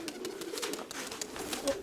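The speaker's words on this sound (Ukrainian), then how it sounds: "А це голубки" Three-year-old breeding pigeons coo faintly in a low, continuous murmur with soft background noise.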